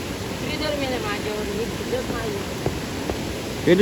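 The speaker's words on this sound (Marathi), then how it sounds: "पूर येत आहे आता म्हणजे हौर आम्ही हौर बोलतो पाऊस पडला त्याच्यामुळे हौर चालू आहे" Floodwater swollen by rain rushes past in a steady, close broadband roar, while someone talks over it.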